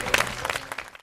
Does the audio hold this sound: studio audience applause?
yes